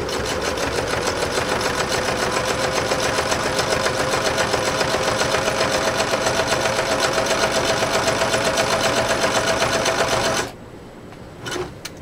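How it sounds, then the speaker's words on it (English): A Singer 6221C sewing machine runs a zigzag stitch through cowhide leather, a fast, steady mechanical whir and clatter lasting about ten seconds before stopping abruptly, followed by a couple of faint clicks. "we'll see how this machine does with a zigzag now"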